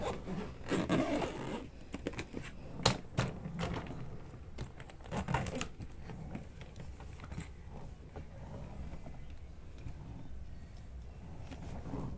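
A suitcase zipper is pulled open in a series of rasping, scratchy strokes that are louder early on, then fade into a steadier, softer rubbing, heard up close with no voices over it.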